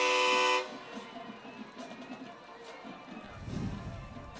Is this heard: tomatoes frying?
no